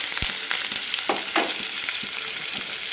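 Okra with onions, green chillies and curry leaves fries in a pan, giving a steady close sizzle broken by a few scrapes and clinks of stirring, with no voices.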